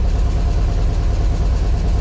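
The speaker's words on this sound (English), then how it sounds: "Right now I just started the car" A 1971 Volkswagen Super Beetle engine, freshly started, idles with a steady, dense low rumble that stays even and unbroken throughout, close and fairly loud with no voices.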